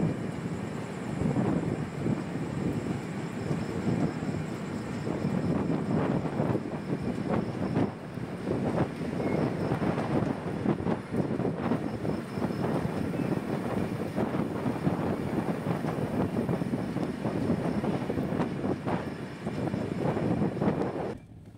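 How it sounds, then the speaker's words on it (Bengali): The Darjeeling Mail passenger train running at night, a loud continuous rumble and rattle heard from inside, with rhythmic clatter and wind-like roar sustained throughout. "ট্রেন এখন গুসকরা রেলওয়ে স্টেশন ক্রস করছে।"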